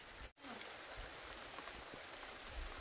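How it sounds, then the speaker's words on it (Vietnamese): Steady rain falls around a home in the countryside, a continuous even hiss that lasts the whole stretch with one short break near the start, and no voices. "Ôi trời mưa ơi"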